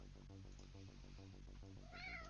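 A black cat meows once near the end, a short tonal cry rising over a low, steady, rhythmically pulsing background hum, quiet and indoors.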